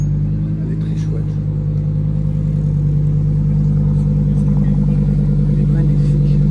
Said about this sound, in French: Un peu comme la Lamborghini qui arrive, là, les amis.